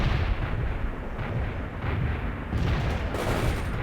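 Gunfire and artillery blasts from the PC strategy game World in Conflict, Soviet Assault campaign, form a dense, continuous barrage of booms and rattling shots at steady high loudness throughout.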